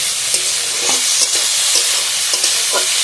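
Onion and tomato frying together in a pan, a loud steady sizzle running throughout with occasional light scrapes of stirring, close and with no voices.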